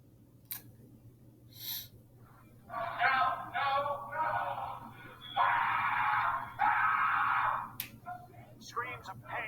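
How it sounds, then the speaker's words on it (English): A student at the Judge Rotenberg Center screams in pain while tied down and shocked, heard as several loud, strained bursts in news footage, each lasting about a second, with quieter gaps and faint noise between them. "Screams of pain from a student at the Judge Rotenberg Center as he's tied down and shocked for hours."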